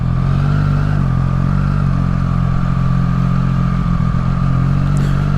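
Triumph Street Triple R motorcycle engine droning loud and steady while being ridden through city traffic, a constant close-up hum with no voices.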